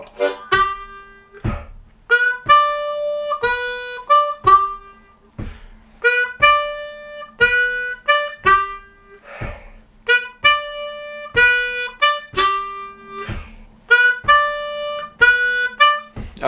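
Harmonica plays a bass line slowly, short separated notes in a looping chugging rhythm, clear and close with no voices.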